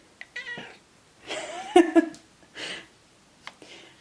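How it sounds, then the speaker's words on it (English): A grey pet cat gives a few short meows and grumbling vocalizations, close and fairly loud, in separate bursts spread over four seconds with quiet gaps between. "She's a very loving cat, but sometimes she acts a little grumpy."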